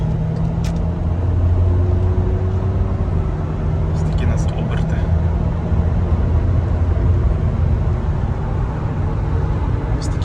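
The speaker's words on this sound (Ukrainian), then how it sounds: "Ось так автомобіль нас набирає, планенько все переключає." Inside a VW Passat Alltrack with a DSG gearbox and 4Motion drive, a steady engine drone builds under light acceleration, with smooth, barely noticeable gear changes and faint cabin noises over the hum.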